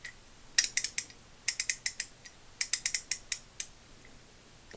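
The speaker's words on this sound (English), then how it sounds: "this is what it looks like when it's ratcheting" A vintage 3/8-inch drive ratchet is worked back and forth, giving three crisp bursts of rapid metallic clicking separated by short pauses, close and clear.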